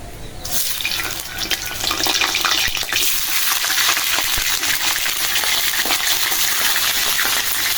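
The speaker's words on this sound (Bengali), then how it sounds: "চিংড়ি মাছ কটা একটু ভাজা দানি" Prawns hitting hot soybean oil in a heated wok, with a loud, steady, close-up hiss and sizzle that runs on without a break.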